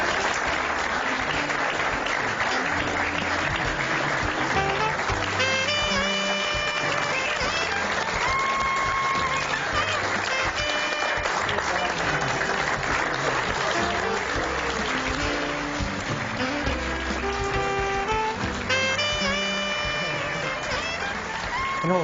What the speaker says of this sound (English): Ladies and gentlemen, a round of applause for Larry and Geraldine.